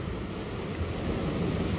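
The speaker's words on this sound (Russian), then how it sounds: "Посмотрите, какая волна." Stormy sea waves surge onto Balaklava beach in Crimea, a continuous broad roar of surf mixed with wind noise, loud and steady throughout.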